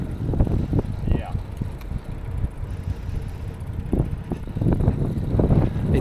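A headwind buffets the microphone during a bike ride through farm country, a steady rough rumbling gust noise that swells and eases, with a person talking over it.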